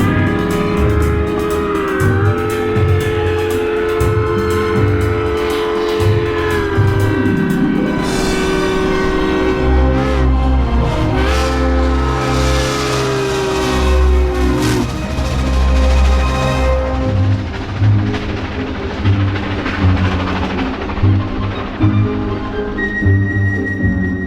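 The first TGV high-speed train runs loud and continuous, with a heavy rumble beneath whining tones that rise and fall as it gathers speed, then shifts to a rougher, hissing roar near the end.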